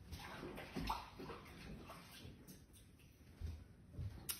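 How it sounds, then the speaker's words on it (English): Hands washed under a running kitchen tap while preparing chicken Milanese, a steady rushing splash with a few soft knocks and bumps, fairly quiet and close. "I'm just going to wash my hands."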